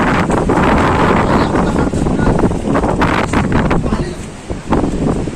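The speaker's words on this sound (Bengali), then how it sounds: "প্রচুর বাতাসও হচ্ছে" Strong sea wind at Oceana beach in Digha buffets the microphone in heavy, roaring gusts that rise and fall throughout, loud and close, with no clear talk.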